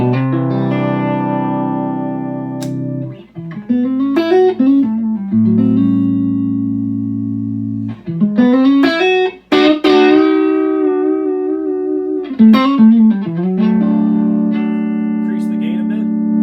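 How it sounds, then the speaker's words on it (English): An electric guitar runs through a Feather 5 pentode preamp in high mode, with a shimmering, compressed tone. Sustained chords alternate with quick picked phrases, played loud with no talking. "This is where you really start to hear the Pentode kind of shimmer and a little bit of the compression artifact"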